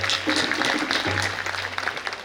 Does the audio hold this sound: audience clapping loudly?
yes